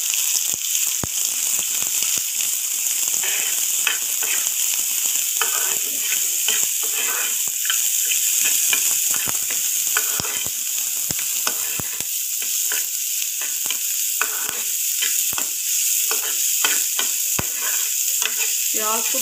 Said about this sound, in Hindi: प्याज को बस हल्का सा पकाना है, इसे ब्राउन नहीं करना।